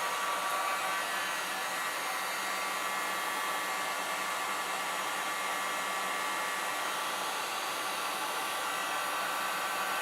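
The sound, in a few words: hair dryer drying chalk paste cutouts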